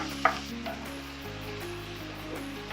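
Beef pieces for a sauté fry quietly in a pan, giving a faint, continuous sizzle with one small tap near the start and no voices.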